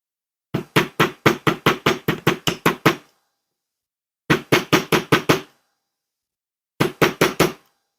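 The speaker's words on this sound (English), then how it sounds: "Bring in the bench block" A hammer strikes a 16 gauge copper wire jump ring on a mandrel resting on a bench block: three sharp runs of metallic taps, about ten, then six, then five blows, each run separated by silence.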